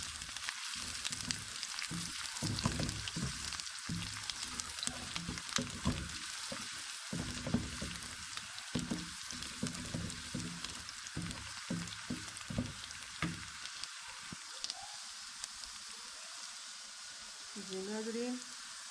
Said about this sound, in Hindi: अदरक, लहसुन और प्याज को हमने अच्छी तरह भून लिया